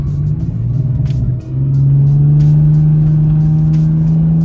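A BMW E46 with retrofitted paddle shifters drives at steady speed, its engine a loud continuous hum that dips briefly at a shift and then holds a slightly higher tone, with a faint voice underneath.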